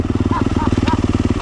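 A dirt bike engine revs steadily on a woods trail during hare scramble riding, loud and close, with a fast, even pulsing putter and a faint thump partway through.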